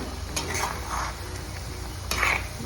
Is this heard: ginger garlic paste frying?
yes